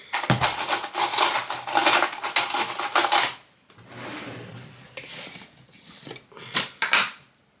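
A metal teaspoon scoops Bulk-brand peanut butter from a jar, giving a run of close scrapes and clinks, a short pause, then more scraping and a couple of sharper taps against the container.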